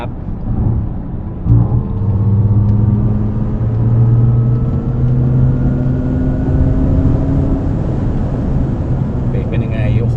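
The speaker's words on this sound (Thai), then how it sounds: "เสียงมอเตอร์ คาแรคเตอร์เหมือนกับตัว Gran Turismo Folgore" Maserati Grecale Folgore electric SUV accelerates, its motor whine rising in pitch in smooth sweeping tones over road and cabin rumble, with someone talking throughout.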